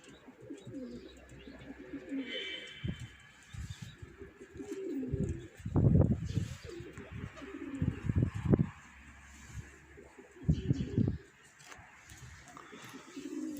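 Pigeons cooing in bursts at moderate distance while a pigeon keeper trains his birds, with soft low coos repeating around loose outdoor background and brief speech-like sounds.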